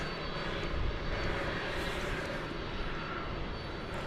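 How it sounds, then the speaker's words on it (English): UPS Boeing 767 departing DFW Airport, a broad, steady engine roar that stays strong and even at a distance with no other sounds. "we've got a UPS plane going out right now"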